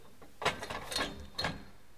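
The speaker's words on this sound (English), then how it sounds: "slide it into the clamp socket here" A guardrail clamp slides into a post clamp socket, giving three quiet metallic scrapes and clicks in quick succession, close by, with no talk.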